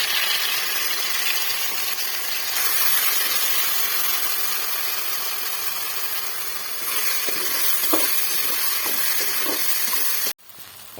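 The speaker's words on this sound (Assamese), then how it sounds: "এতিয়া মই পেষ্টখিনি ভাজি ল'ম।" Spice paste frying in hot oil makes a loud, steady hissing sizzle with scattered crackles toward the end, then cuts off abruptly.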